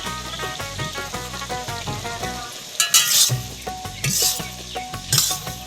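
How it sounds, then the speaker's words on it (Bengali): Green chillies stir-fried with sponge gourd curry in a pan, a steady sizzle and fry with repeated scraping stirs and clinks of a spatula against the metal. "ভালো করে ধুন্দুলিতে কষাচ্ছি।"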